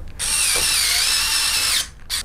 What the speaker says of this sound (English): get some of those screws and screw that boy in